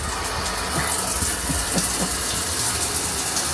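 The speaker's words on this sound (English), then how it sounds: "goes from the nozzle to the rain shower." Steady hiss of water pouring from a rain shower head, continuous and close, with faint knocks and splashes underneath.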